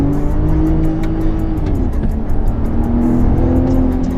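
A truck engine in a Ford Raptor versus Ram RHO comparison revs hard and holds against the rev limiter in a loud, steady droning roar with pitch wavering, close and continuous.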